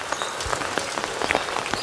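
Rain falls in a garden among potted plants, irregular drops tapping and pattering nearby over a soft wash of drizzle with no voices.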